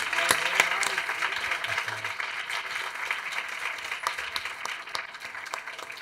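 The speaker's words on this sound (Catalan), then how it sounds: "Enhorabona, un aplaudiment." Audience applause at a student awards ceremony, sustained dense clapping with individual sharp claps standing out, a few voices underneath, gradually thinning toward the end.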